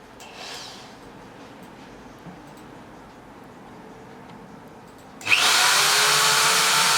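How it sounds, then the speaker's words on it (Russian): A power drill bores holes into a plastic container, starting abruptly after a quiet stretch and whining loudly and continuously to the end, with a brief rustle near the start. "сейчас Костя будет сверлить дырки в этом контейнере"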